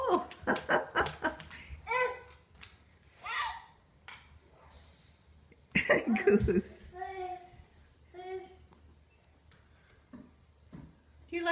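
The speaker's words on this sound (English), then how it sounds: "Do you like the doggy?" A dog whimpers and yips amid excited chatter from a child and adults, with bursts of laughter nearby.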